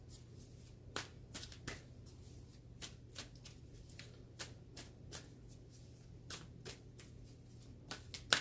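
Oracle cards being handled and drawn from a deck, heard as a quiet run of crisp card snaps and shuffling flicks at an irregular rhythm over a low steady hum, with no talking.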